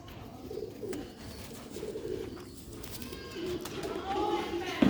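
Sialkoti rooftop pigeons coo softly in low repeated bursts while someone talks over them nearby, the birds staying faint beneath his voice.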